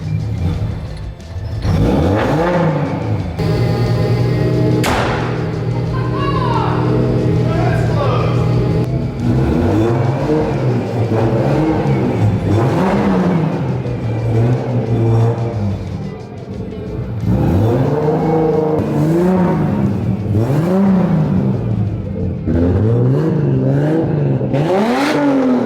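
A turbocharged Lexus IS300 engine revs repeatedly on a loud 2-step, rising and falling in rhythmic bursts with popping and a harsh, close exhaust note throughout.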